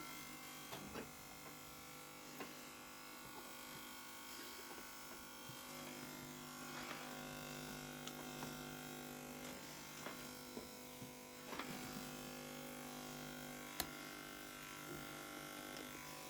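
A Kiwi KKPC10850 pet hair clipper trims a cat's fur at home, giving a steady, quiet electric buzz with a thin harmonic whine and scattered faint clicks throughout.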